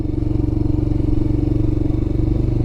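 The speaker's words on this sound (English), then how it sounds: "The motorcycle's running great." A Royal Enfield Himalayan motorcycle's single-cylinder engine idles with a steady, rapid thumping pulse, close and even, with a light mechanical clatter on top.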